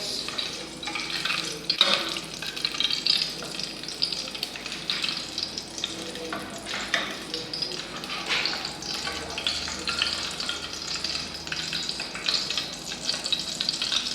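Paraffin jelly melting in a pot while petroleum jelly is made gives a continuous, crackling sizzle with irregular stirring scrapes, steady and moderately close for the whole stretch.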